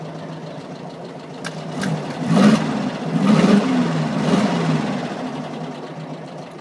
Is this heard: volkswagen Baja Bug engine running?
yes